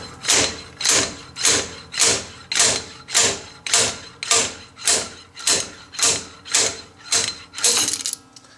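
A bearing puller works a Jeep TJ wheel bearing loose with a steady series of about fourteen evenly spaced metallic thumps, close and loud, with no talk.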